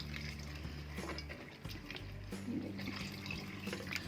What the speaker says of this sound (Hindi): ये मैं पानी डाल दूँगी